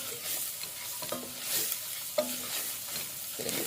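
Spices frying with onions in a pan, a steady close sizzle with occasional scraping stir strokes and small pops.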